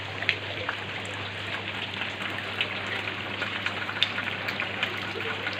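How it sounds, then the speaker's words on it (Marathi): Heavy rain pours nonstop on a house where water is flooding in, making a steady hiss of downpour with scattered sharper drip impacts. "एवढा पाऊस झालाय की"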